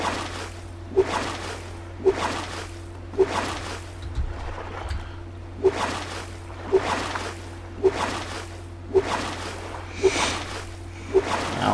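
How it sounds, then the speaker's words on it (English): A raft is paddled across the ocean in Stranded Deep with regular sloshing paddle strokes, about one per second, over a low steady hum of open water. "Gonna head to that middle island and just keep paddling all the way there"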